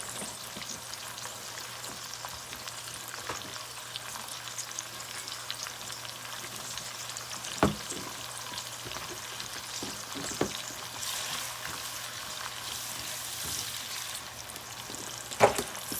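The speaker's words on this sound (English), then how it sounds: "And then I'm gonna put the potato greens and let it fry." Potato greens frying in a pan, a steady hiss of oil running throughout with a few scattered pops and spatula knocks, close up and with no one talking.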